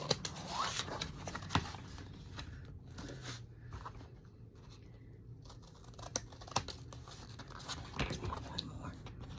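Scrapbook paper is snipped and trimmed with a corner tool in a quiet room, producing a string of soft, close clicks and crisp cuts at irregular intervals.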